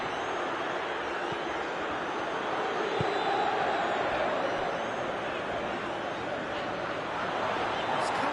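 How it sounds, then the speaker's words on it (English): Football stadium crowd at a Serie A match, a broad steady roar of many voices filling the whole stretch, loud and continuous, with no individual talk standing out. "the crowd clearly like what they just saw"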